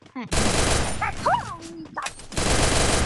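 Gunfire in the Free Fire video game, loud rapid bursts of shots filling most of the clip, with a brief break in the middle where a voice exclaims.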